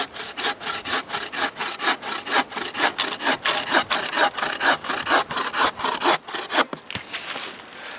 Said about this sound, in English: we're going to give this a cut and see how well it holds.